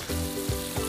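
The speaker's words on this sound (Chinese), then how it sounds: "我煎紧啊" Lobster sizzles and spits in a pan of melted butter with herbs, a close, continuous frying hiss with a few soft pops and stirring shifts.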